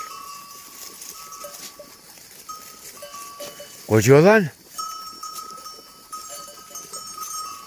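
A flock of sheep wearing bells in open pasture, the bells tinkling steadily throughout with one loud, close bleat in the middle, while someone talks nearby.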